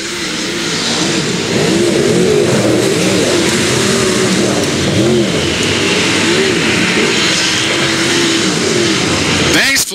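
USAC sprint cars race around Valley Speedway in the closing laps, their engines a loud, continuous roar with pitch rising and falling as cars pass, under steady announcer commentary.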